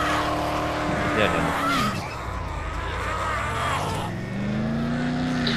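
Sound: car driving in the video game Dead Island Riptide

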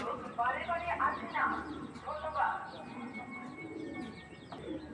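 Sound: orange chila pigeon cooing

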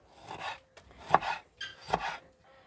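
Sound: knife chopping garlic and tomato

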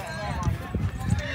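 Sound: mare's hooves clip-clopping

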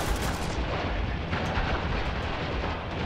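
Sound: gunfire from the video game Spec Ops: The Line

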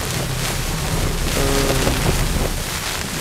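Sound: strong wind with snow outside mountain tent

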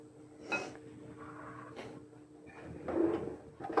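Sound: mixing salad in a bowl

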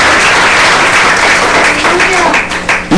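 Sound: church congregation applause

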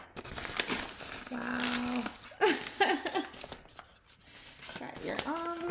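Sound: paper envelope being opened and handled

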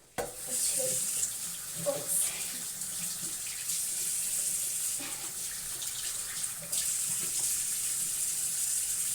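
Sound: washing face with water at a sink

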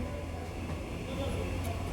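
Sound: local train departing Shantipur Junction

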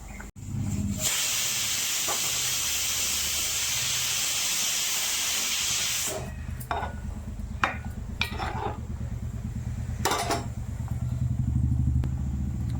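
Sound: mutton liver boiling in water

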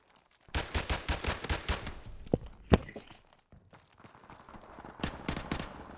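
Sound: Dragunov sniper rifle gunfire in video game Modern Warfare Remastered

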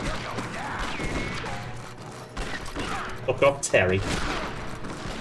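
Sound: shotgun gunfire in video game Red Dead Revolver

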